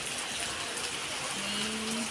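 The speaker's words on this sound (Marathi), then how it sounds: "पाऊसचा आवाज येत असेल तुम्हाला" Steady rain falls through a stormy night during a power cut, a soft continuous hiss of drops on surfaces heard alone at moderate distance, with a faint hum near the end.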